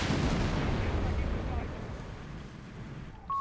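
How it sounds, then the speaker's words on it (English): Rifle grenades and artillery in the video game Company of Heroes 3 make a dense, rumbling barrage of blasts and gunfire that is loud at first and settles into a steady battle din. "we got rifle grenades being flung into the ranks of the Jaegers as they move head on"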